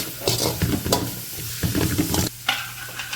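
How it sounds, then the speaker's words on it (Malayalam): Small onions, or shallots, sautéing in a pan for pork roast, a loud continuous sizzle broken by repeated stirring scrapes of a spoon against the pan. "കൊച്ചുള്ളി നമ്മൾ ഇട്ട് കൊടുക്കും അതിന് ഇതൊന്ന് നന്നായി വഴറ്റിയെടുക്കാം"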